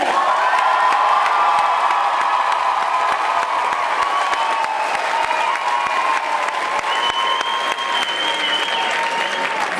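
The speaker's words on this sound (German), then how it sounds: "Je lauter Sie klatschen, desto mehr Punkte kriegen Sie." A dance-event audience claps and cheers loudly to drive an applause meter at a celebrity dance tournament in Bremen, a dense continuous roar of clapping with whoops and shouts held at full strength throughout.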